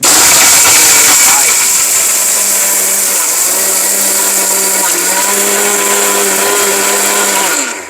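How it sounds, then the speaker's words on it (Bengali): A steel commercial robot blender grinds brick into powder, a very loud, continuous high-pitched motor roar with a hissing wash, steady throughout and ending abruptly. "ব্লেন্ডারে ইট একদম গুঁড়ো হয়ে গেছে"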